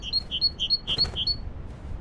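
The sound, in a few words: bird chirping in a duck hunting video game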